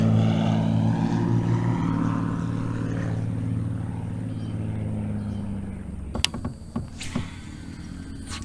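A propeller airplane flying close by next to an airport, a loud steady engine drone that fades over several seconds before a few sharp knocks and clatters nearby.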